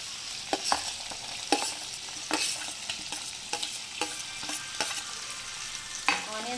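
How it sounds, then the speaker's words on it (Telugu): Onions and green chillies sizzle in hot oil with frying chicken, a steady crackle broken by repeated sharp scrapes and clacks of a spatula stirring the pan, close and with no voices. "ఆనియన్స్, పచ్చిమిరపకాయలు వేసేసుకుందాం. ఇవి కూడా బాగా వేగిపోతాయి."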